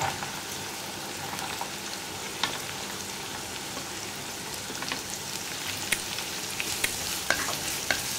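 Chopped onion sizzling in hot oil for an aloo gobi curry, a continuous close crackle with scattered sharp pops and light stirring clicks, no speech.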